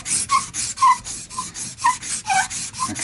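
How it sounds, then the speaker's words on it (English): Sandpaper rubs along the fingerboard of a Hofner archtop acoustic guitar during refurbishment, with close, rhythmic rasping strokes about every half second and no talk. "done quite a bit of sanding on this, which has taken off a lot of the material"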